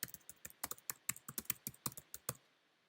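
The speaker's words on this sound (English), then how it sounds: "type it up" Computer keyboard being typed on, about twenty crisp, close key clicks in an uneven quick rhythm, fairly quiet, then stopping into silence.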